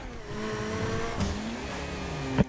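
An Adder sports car engine in GTA V Online hums and revs steadily, with pitch rising and falling through gear changes and a sharp bump near the end.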